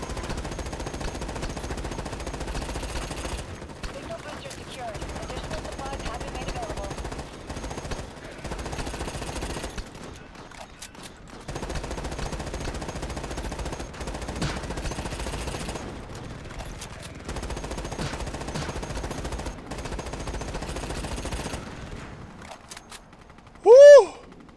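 Bursts of machine gun fire from multiple enemy gunners in the sci-fi shooter Starship Troopers Extermination, rattling in repeated sustained volleys with short gaps between them, loud and close throughout.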